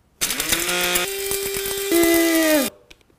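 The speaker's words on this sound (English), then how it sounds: "Grind the ginger." An electric spice grinder whirs for about two and a half seconds, grinding crispy dehydrated ginger slices into powder, a loud steady motor whine that shifts pitch slightly midway as the pieces break up, then cuts off abruptly.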